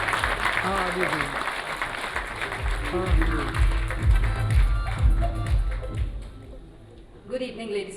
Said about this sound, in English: You're supposed to clap until she gets to the podium